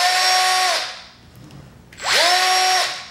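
A Milwaukee M18 cordless drill powered by a DeWalt 20V battery whirs loudly twice, each burst spinning up and winding down, with a short quiet pause between the two runs.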